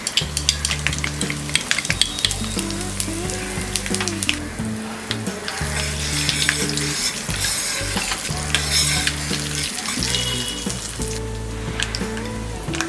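Mustard seeds, urad dal and asafoetida hit hot oil and ghee in a pan, giving a steady loud sizzle with crackling pops and occasional stirring scrapes throughout.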